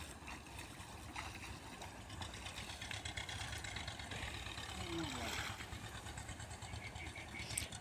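An electric water pump motor runs at a distance, pushing water into a vegetable field: a low, steady hum with a faint trickle of flowing water and muffled voices in the background.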